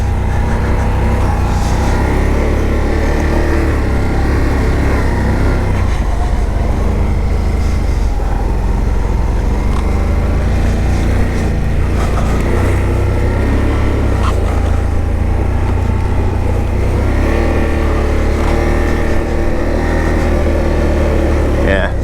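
Gen 3 Can-Am Outlander 1000 XMR ATVs riding through snow in winter, a loud continuous engine drone with shifting revs up close while someone talks over it.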